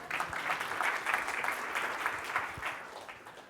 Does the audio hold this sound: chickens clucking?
no